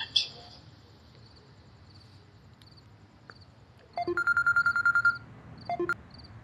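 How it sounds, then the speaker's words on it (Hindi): A short run of electronic dial tones beeps in quick succession, followed by a couple more beeps, against quiet background noise. "बग्गे भाई को करती हूँ फोन, 1 मिनट।"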